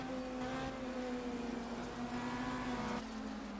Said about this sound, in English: Just listen to the car